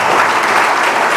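Brief burst of steady, loud clapping from a church congregation at a worship service, dense and continuous throughout.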